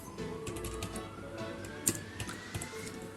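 Computer keyboard typing a Wi-Fi SSID while setting up an ESP32-CAM AI Thinker module, soft scattered key clicks at close range with one sharper tap, over faint background hum.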